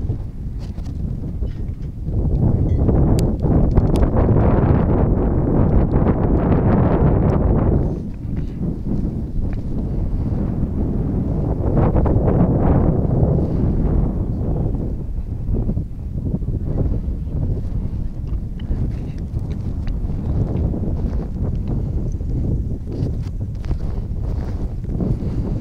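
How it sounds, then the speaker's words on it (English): Wind gusting outdoors at a model glider contest field, a loud continuous rumbling buffet on the microphone that swells and eases in waves throughout, with no talking. "So the wind is picking up, as you've heard."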